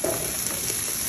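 Cubed potatoes sautéing in the same pan the meat was cooked in, a brief, steady, close sizzle with no voices.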